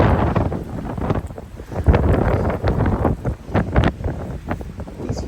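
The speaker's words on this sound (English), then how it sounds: "These feel like 50-mile-an-hour winds." Strong wind gusts in Plano, Texas, batter the microphone with loud, uneven buffeting roars that swell and ease over a few seconds, close and rough with no voices.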